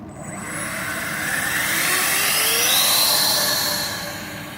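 A Freewing A-10 Thunderbolt RC jet takes off on its maiden flight, its ducted-fan whine swelling and rising in pitch, holding loud, then easing away as it climbs.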